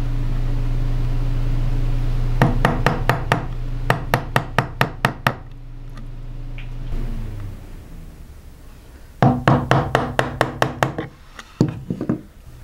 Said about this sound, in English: Now I can use my smaller chisels to just work back to my lines.